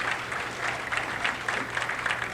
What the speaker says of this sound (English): And of course the crowd gives a big hand to Bruce